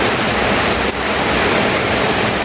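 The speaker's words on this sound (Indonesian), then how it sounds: "ini hujannya tuh deras banget" Heavy rain pours down steadily in a dense, loud, unbroken hiss that stays even from start to finish, with no voices heard.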